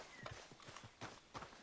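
Horse hooves clip-clop at a quick gait in a video game, a fast series of soft thuds close by over a faint background.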